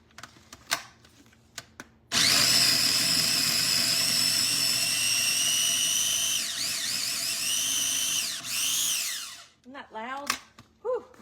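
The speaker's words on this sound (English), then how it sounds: "I am just going to stick it in this mini chopper so we don't have crazy big chunks in our meatloaf" A mini chopper whirs loudly as it chops bell pepper, onion and celery for a gluten-free meatloaf, running steadily for several seconds with pitch dips as the load shifts, then stops. Short handling clatter comes before it, and a voice comes after.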